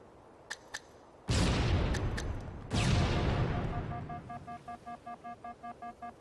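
Grenade explosions in the Halo 2 video game: two heavy booming blasts a second or so apart, each with a long rumbling decay, preceded by a couple of faint clicks and followed by a repeating electronic beeping tone.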